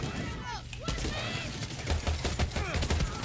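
Gunfire from a weapon in the video game Far Cry 6 crackles in quick bursts under game effects, while someone speaks over it.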